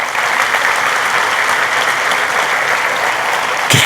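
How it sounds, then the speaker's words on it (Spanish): A church congregation applauds during a Spanish-language communion service, loud, dense and continuous clapping filling the whole span, with a brief louder burst near the end. "Dale un aplauso al Rey bendito."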